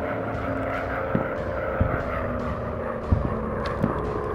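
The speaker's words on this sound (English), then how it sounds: "Bombers are spreading out." WW1 bomber aircraft engines in the game Warplanes: a steady propeller drone, loud and continuous, broken by a few dull thumps.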